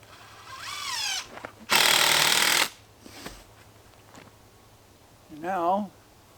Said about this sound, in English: I'm just measuring down and shooting a screw in